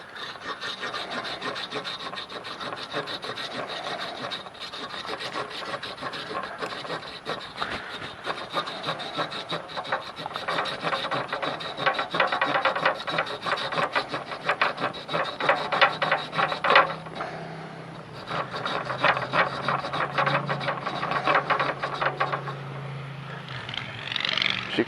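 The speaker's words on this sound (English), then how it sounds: "So I'm going to take the saw of my multi-tool and cut this end off." A multi-tool's small saw cuts through a fiberglass rod for a scavenged self bow, producing fast, continuous rasping strokes that stay close and steady throughout.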